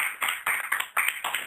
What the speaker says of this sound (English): So you win a round of applause.